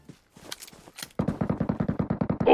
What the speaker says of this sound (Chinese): 后面还有枪声